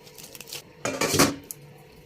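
Fried eggplant being stirred into a fish curry in a pot: a spoon knocks and scrapes against the metal pot in a few close clattering strokes, loudest around the middle, with no talk.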